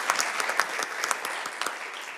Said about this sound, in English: Great round of applause for our department.